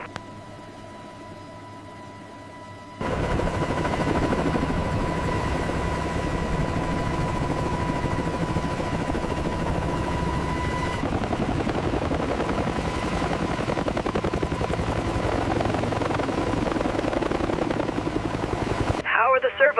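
A Z-20 utility helicopter holds a stable hover, its loud steady rotor and turbine roar starting abruptly and running continuously up close, with voices talking over the noise.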